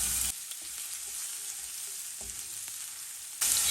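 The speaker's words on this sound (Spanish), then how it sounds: "En un sartén vamos a poner un chorrito de aceite. Aquí le voy a agregar 4 ajos picados, 2 chiles de árbol secos" Minced garlic and dried chiles de árbol fry in a splash of oil in a skillet, giving a steady hiss that swells louder at the very start and end.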